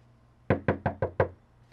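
Five sharp knocks on a door, evenly spaced and close, standing alone with no talk.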